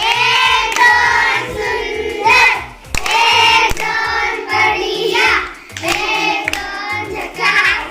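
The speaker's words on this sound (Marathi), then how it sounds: "तिच्यासाठी जोरदार टाळ्या झाल्या पाहिजेत" A group of children and a teacher clap for a young girl who solved a matchstick number puzzle in class, giving several loud bursts of applause with brief pauses between them.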